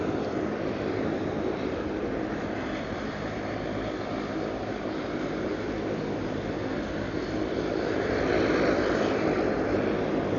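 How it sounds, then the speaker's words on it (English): A SATA Dash 8-200 turboprop, around 28 years old, preparing for departure at Ponta Delgada Airport, a steady broad engine drone heard from a distance that swells slightly toward the end. "Around 28 years old, this Dash 8200 from SATA."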